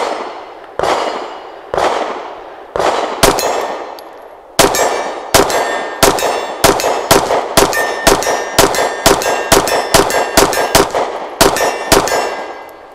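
Beretta APX A1 Compact pistol fired outdoors: a few spaced shots, then a rapid string of sharp, loud reports with metallic ringing between them, each crack clear and close, no talking.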